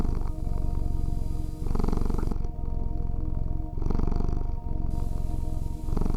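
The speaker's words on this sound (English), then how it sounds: "The shell is drinking this purring of the cat" A cat purring close up, loud and rhythmic, with repeated inhale and exhale cycles of a deep rumbling vibration.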